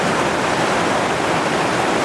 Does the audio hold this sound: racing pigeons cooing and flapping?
no